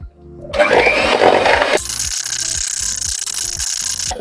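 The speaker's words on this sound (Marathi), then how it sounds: "आणि साखर व्यवस्थित बटर हलकं होईपर्यंत बीट करून घ्यायचं" An electric hand mixer beats butter and sugar in a bowl for eggless strawberry cupcakes, starting with a loud, close whirring burst, then dropping to a steadier high whine with a regular rattling knock as the beaters strike the bowl.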